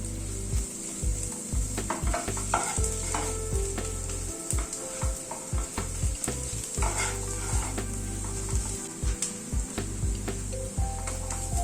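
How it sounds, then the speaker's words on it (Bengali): Ground spices and onion are stirred in a hot pan for a Coorg-style paneer masala curry, with a steady sizzle of frying under repeated scraping strokes of a spoon against the pan. "গুঁড়ো মশলাগুলো একটু পেঁয়াজের সাথে নাড়াচাড়া করে নিচ্ছি।"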